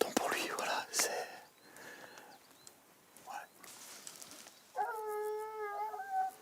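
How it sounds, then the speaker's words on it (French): Hunting dogs give excited, drawn-out howls after scenting a wild boar, heard faint and partly distant early on, then a louder sustained multi-voiced howl near the end over rustling outdoor ambience. "En contrebas, les chiens s'agitent. Ils ont senti un sanglier."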